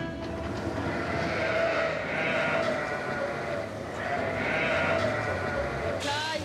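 Ewes and lambs in a flock bleat continuously and overlapping outdoors after rain, a dense chorus of many animals close by.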